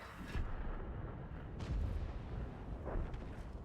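Tank cannon fire in World of Tanks: a few dull, distant-sounding booms over a constant low rumble of battle ambience, faint and without speech.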